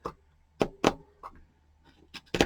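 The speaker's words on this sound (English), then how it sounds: "and then I'm just going to take my scissors" Several crisp, separate snips of scissors cutting fibers close by, irregularly spaced over a couple of seconds in a quiet room.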